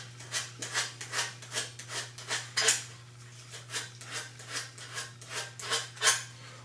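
Scotch-Brite pad rubbing metal on an RV-10 aircraft tail cone, a rhythmic series of quick scrubbing strokes, close and fairly quiet over a low steady hum.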